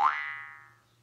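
A jaw harp reed struck once gives a bright twanging boing whose tone bends as the mouth shapes it, then rings and fades away over about a second, close and clear with no voices.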